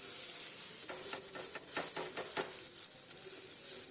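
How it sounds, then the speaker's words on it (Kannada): Tomato masala for Bangude fish fries in oil with a steady hiss, while a run of quick spatula scrapes and taps sounds close by in the middle. "ಎಣ್ಣೆಯಲ್ಲೇ ಫ್ರೈ ಮಾಡ್ಕೊಳ್ಬೇಕು ಚೆನ್ನಾಗಿ ಫ್ರೈ ಆಗೋಕ್ಕೆ"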